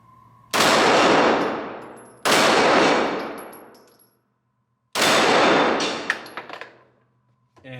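Three loud, sharp gunshot blasts from a Canik SFX Rival pistol at an outdoor range with flappy pedal steel targets, each shot followed by a long ringing decay. The final shot gives way to a few quick metallic clangs as the targets are hit.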